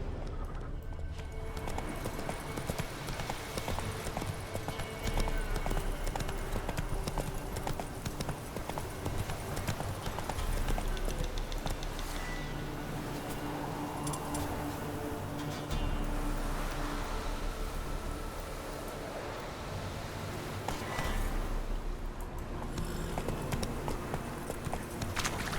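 Roach the horse trots along in The Witcher 3, steady clip-clopping hooves running continuously over a dense ambient wash of the game world.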